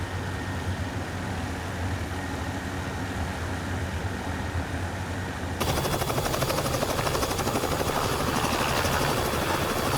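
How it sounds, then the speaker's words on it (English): A Vskylabs R66 helicopter in the X-Plane flight simulator gives a steady, dense turbine and rotor drone that grows abruptly louder and brighter partway through, continuous and close, with no talking. "Now I'm going to switch helicopters and take a little flight up to Fisk."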